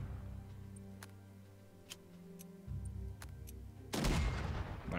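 Artillery bombardment in the Unity of Command II strategy game: scattered sharp clicks and thuds over a low game hum, ending in a louder burst of explosive rumble near the end.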